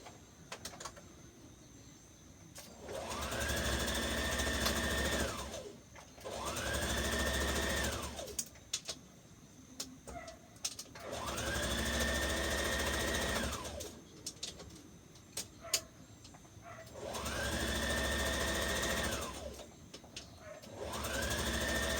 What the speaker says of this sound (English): and we're gonna stitch. Stitch our dart in place.